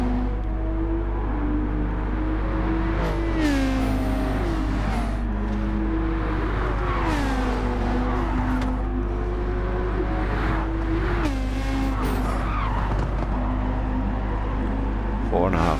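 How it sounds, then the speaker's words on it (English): Four racing cars run close together, their engines droning and shifting pitch as they rise and fall under steady excited commentary throughout. "So very close here now with these 4 cars."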